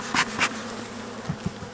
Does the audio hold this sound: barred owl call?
no